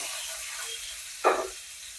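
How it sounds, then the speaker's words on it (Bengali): Chopped onion dropped into hot oil in a pan, giving a sudden burst of sizzling that quickly settles into a quieter steady fry, heard alone and up close. "এটা গরম হয়ে এসছে এবার আমি পেঁয়াজ কুচুনোটা এর মধ্যে দিয়ে দিলাম"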